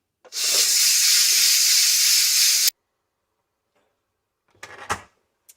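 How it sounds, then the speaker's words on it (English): Loud, steady hiss of hot steam venting from an Instant Pot pressure release valve for about two seconds, then silence followed by a brief short burst of hissing. "we are going to go ahead and release the pressure"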